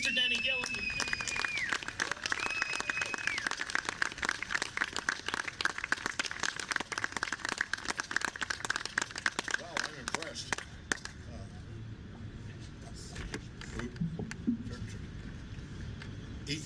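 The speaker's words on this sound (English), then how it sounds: "with a huge round of applause, please welcome to the stage, Mr. Denny Gillen." Applause rises from the audience at a Friday night event as a speaker is welcomed to the stage, with loud, dense clapping and a few whoops that thin out and fade toward the end into scattered claps and room noise.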